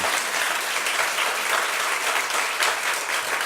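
Church congregation applauding during a Korean-language worship service, a dense steady wash of clapping from many people filling the room throughout, with no speech over it.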